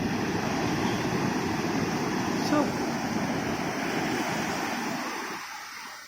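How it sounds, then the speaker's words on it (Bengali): Sea waves wash in toward the feet on Puri beach, a steady broadband roar of surf and wind close by that fades slightly at the end, with no clear talk. "পায়ের কাছে চলে আসছে ঢেউ, বুঝছো?"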